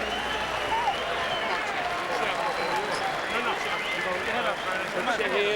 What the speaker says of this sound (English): A round of applause, please, for Vernon Forrest and Raul Frank.